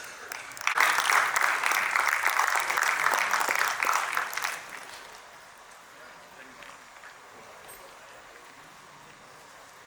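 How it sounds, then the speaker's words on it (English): An indoor audience at an inauguration and felicitation program applauds for about four seconds, the clapping dense and fairly loud before it drops away to quiet room noise. "Huge round of applause"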